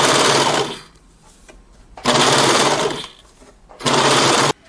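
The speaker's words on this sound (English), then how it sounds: "I'm gonna go and overlock it now." An overlock machine serges the edge of a blouse sleeve, running in three loud, close bursts separated by quiet pauses.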